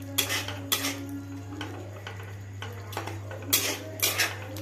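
Spice masala for chicken is stirred and sautéed in a pan over low flame, with repeated metallic scrapes and clanks of a spoon against the pan over a steady low hum.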